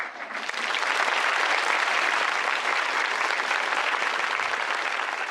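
At the official handover ceremony of 119 Benin Bronzes, an audience breaks into a steady, full round of applause. The clapping swells within half a second and holds evenly loud, with no talk over it.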